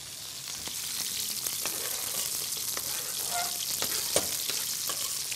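Onions frying with butter in a pan, a steady bright hiss of sizzling with faint stirring scrapes throughout, close and continuous.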